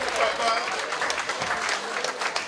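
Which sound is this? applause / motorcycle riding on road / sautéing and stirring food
applause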